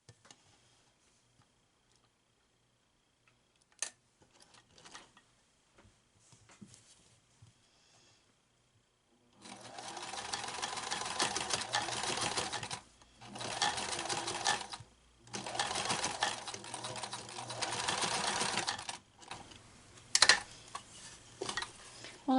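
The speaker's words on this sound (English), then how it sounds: "I'm sewing to the corner and stopping because of the direction of the pleats." A sewing machine stitches pleated canopy panels for a doll bed, running in steady bursts of rapid mechanical whirring that stop at short pauses after a quiet stretch of handling noises.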